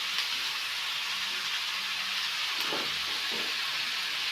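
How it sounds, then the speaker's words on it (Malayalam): Grated coconut going into a hot pan for chammanthi over a raised flame, giving a steady, even sizzling hiss that runs the whole time with no talking. "ഇനി നമ്മൾ തേങ്ങ ആഡ് ചെയ്യാൻ പോവാണ്. പതിയെ നമുക്ക് ആഡ് ചെയ്ത് കൊടുക്കണം."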